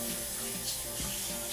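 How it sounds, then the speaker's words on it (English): Bathroom faucet running steadily into a sink, a constant close hiss of flowing water with no talking. "We turn on the faucet"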